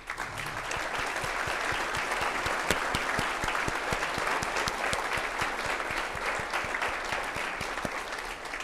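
An audience at a State of the City address applauds elected officials, with sustained, dense clapping throughout, steady and fairly even, with no speech over it.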